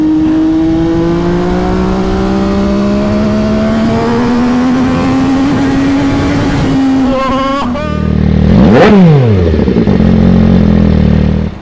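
MV Agusta F3 800 motorcycle running fast, its engine a loud, steady high whine that climbs gradually, then drops sharply as it shifts or passes close by, followed by a rougher, deeper roar at the end.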